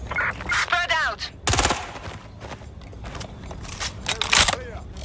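Gunfire in Watch Dogs Legion breaks out in sharp bursts and scattered shots amid urgent shouting voices, loud and close, with a longer volley in the middle of the exchange.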